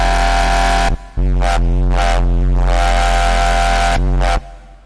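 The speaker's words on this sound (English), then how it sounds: "this is the Foghorn bass from scratch" Foghorn bass patch built in Xfer Serum: a loud, sustained low synth bass with rich harmonics, playing a few long notes separated by brief gaps and short stabs.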